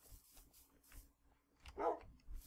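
A dog in Minecraft gives a short bark or yip partway through, with faint soft thumps around it in an otherwise quiet scene.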